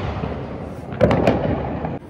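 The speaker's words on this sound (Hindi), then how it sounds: "आप भी देख सकते हैं पीछे वाली साइड कैसे लोग पूरे पटाखे चला रहे हैं" Firecrackers and fireworks burst outside during Diwali celebrations, a couple of sharp cracks over a steady rumble of distant explosions, heard from a balcony.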